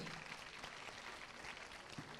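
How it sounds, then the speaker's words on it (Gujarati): A faint, steady patter of applause from a distant audience at a school annual function, continuous clapping with no voices over it. "તાળીઓથી વધાવી લઈએ."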